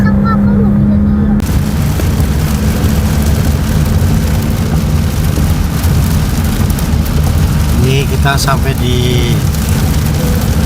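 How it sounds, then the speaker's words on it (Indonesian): Heavy rain pours while a car drives along the road toward Indramayu, a loud, steady wash of rain and road noise, with someone speaking briefly over it at the start. "Hujan deras banget ini guys"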